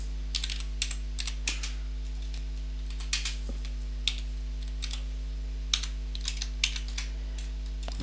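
Steady, fairly close typing on a computer keyboard, with irregular bursts and short pauses of key clicks over a constant low electrical hum, and no voices.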